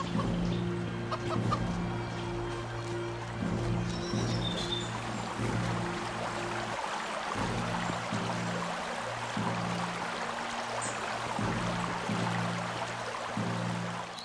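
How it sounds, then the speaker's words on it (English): Chickens cluck repeatedly in the Divinity 2: The Dragon Knight Saga game world on Xbox One X, a steady layered barnyard chatter under a constant low ambient hum, with no talk over it. "Chickens."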